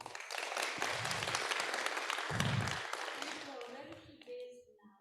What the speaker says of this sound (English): Can I have applause for Horia?